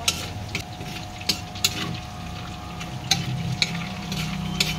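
Whole spices, dry red chilli and small cardamom, fry in a pan for a Bahari chicken dish, a steady sizzle broken by sharp spoon scrapes and clinks against the metal at irregular intervals.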